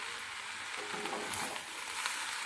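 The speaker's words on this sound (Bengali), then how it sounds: "বাঁধাকপিটা দেওয়ার পরেও বেশ কিছুক্ষণ নেড়ে নিয়েছি। এবার এতে কুচানো পেঁয়াজগুলো দিয়ে দেবো।" Shredded cabbage and chopped onions sizzle softly in a pan as they are stirred for chicken chow mein, making a quiet, steady crackle with a few light scrapes.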